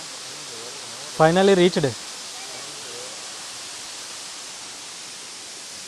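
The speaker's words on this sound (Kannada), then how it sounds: "ನೋಡಿ ನಮ್ಗೆ ಹಿಂದ್ಗಡೆ ಕುಲಿ ಮಾಗೋಡೆ ಫಾಲ್ಸ್" Steady broadband roar of Kulimagod waterfall at Magod runs continuously throughout, with a short burst of nearby talk early on riding over the constant rushing water.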